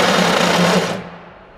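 A loud power tool whines and rattles at close range during a Nissan 240SX RB engine build, running hard for under a second before spinning down and trailing off.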